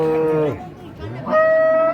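A Holstein Friesian dairy cow lowing at a village cattle market, two close, loud moos with a brief gap between them, the second one long and steady, with market chatter faintly behind.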